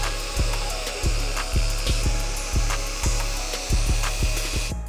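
A machine polisher whirs on the paint of an Audi RSQ3 with a steady hum, broken by regular rhythmic thumps about twice per second, and no talking.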